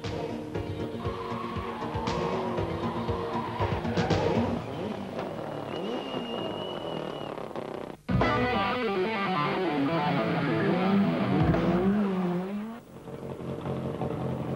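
Škoda Octavia WRC rally car on a pre-Acropolis Rally test driven by Armin Schwarz, engine revving hard and loud with gear changes, a sharp cut midway, then renewed aggressive acceleration with rising and falling pitch.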